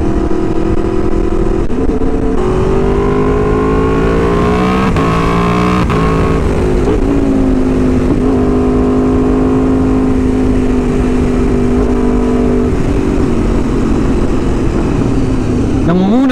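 A Ducati motorcycle engine drones loud and close while riding, its pitch climbing and settling through gear changes, with talking carried over the steady engine noise.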